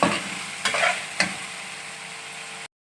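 Chicken karahi sizzles and fries in a hot wok, with a few sharp scraping strokes of a spoon stirring the pieces before the sound cuts off abruptly.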